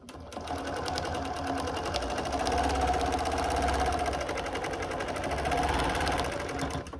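A sewing machine stitches a quilt using a ruler, running in a steady fast whirring rhythm up close for several seconds, starting and slowing at the ends, with no talking.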